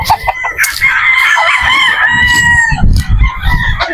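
A Boston Roundhead broodstag rooster crowing loudly and close by in one long drawn-out call, with clucking and scratchy farmyard noise underneath.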